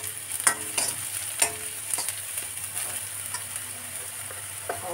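Kashmiri chili frying in a pan while being stirred, with a steady faint sizzle under irregular scraping and clinking strokes of the spoon, close and moderate in level, no voices.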